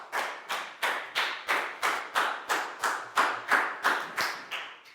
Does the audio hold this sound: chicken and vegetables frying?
no